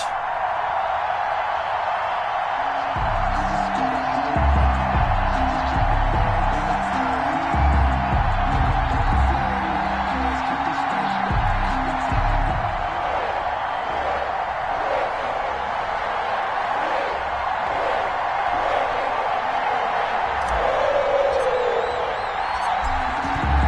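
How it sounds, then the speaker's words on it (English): A sold-out Cincinnati crowd at a video-game Bengals home game against the Miami Dolphins roars steadily, with a broad, constant wash of cheering and whoops and some deeper rumbling swells partway through. "The enthusiasm of this Cincinnati crowd in full effect a moment ago as their Bengals took the field to the delight of this sold-out crowd"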